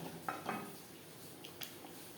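Faint metallic scrapes and taps of a spatula in a pan while taro root and potatoes are stir-fried with spices over medium flame, a few light clinks over a soft background hiss.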